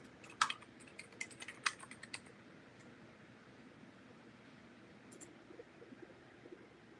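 Keys clatter on a computer keyboard in a quick burst of close, light clicks early on, then a couple of isolated taps over a quiet room hum.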